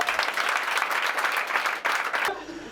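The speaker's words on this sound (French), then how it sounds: "40 ans d'amour, ça s'applaudit." A stand-up comedy audience breaks into lively applause, many hands clapping densely with crowd noise for a couple of seconds before it stops suddenly.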